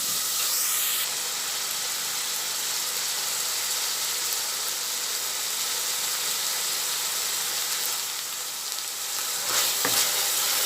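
Minced pork stir-fries with northern Thai larb chili paste in a pan, a loud, continuous hissing sizzle with a brief scrape near the end.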